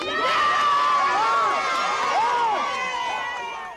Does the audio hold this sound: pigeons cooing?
no